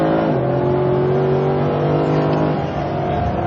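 A Mercedes SLS AMG is driven hard through a fast chicane on a track, its loud engine holding a strong, steady roar with shifting pitch as it changes direction.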